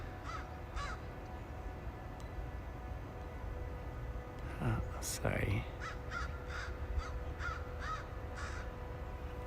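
A raven caws in a sunny Banff backyard, a few harsh croaks rising above faint outdoor ambience, followed by a rhythmic run of repeated calls, while a person briefly speaks quietly nearby.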